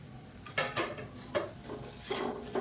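Spoon stirring a karaputtu mixture of poongar rice aval with coriander in a pan, a few scraping strokes with light clinks and a faint sizzle, close and moderately quiet with no talking.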